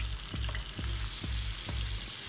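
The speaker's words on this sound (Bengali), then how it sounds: "এখন এটাকে আমি তেলে ভেজে নিচ্ছি।" Turmeric-and-salt-coated tilapia fries in hot oil with a loud, steady crackling sizzle, punctuated by regular low thumps roughly every half second, with no voices present.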